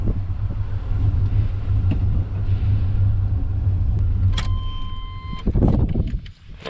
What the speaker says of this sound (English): And I put it in reverse, and then I put it in drive.